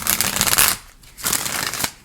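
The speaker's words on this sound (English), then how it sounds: "I'm sure you can hear it, so I am trying to keep the shuffle away from the mic." A tarot card deck riffled in two dense, close bursts of papery flutter separated by a brief lull, with no distinct sharp crack standing out.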